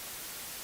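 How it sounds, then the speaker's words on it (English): A brief burst of steady, hissing white noise from a synthesizer, even and unchanging, filling the whole moment at low volume. "Here it is, white noise."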